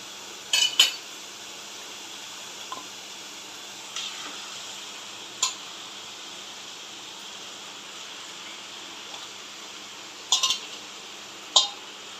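Chicken stirred into a gravy curry in a pan: a spoon scrapes and clinks against the metal pan in occasional sharp taps over a steady sizzle-like hiss.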